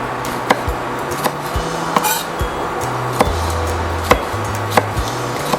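A knife chops tomatoes on a cutting board for an eggplant omelet: a steady series of sharp board knocks about twice a second, close and alone, with faint kitchen clinks.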